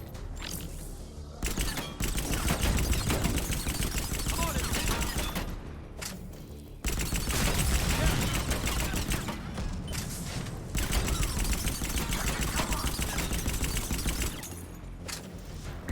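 Gunfire in Mass Effect 3, dense sustained bursts of shooting and mechanical clatter filling the sound, broken by a few short pauses, loud and close.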